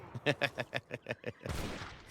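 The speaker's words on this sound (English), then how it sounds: "soaking up gunfire" Gunfire in the video game Age of Empires III, a run of about nine sharp musket-like shots at a quick, uneven rhythm, then a louder, noisier burst of volley fire at the end.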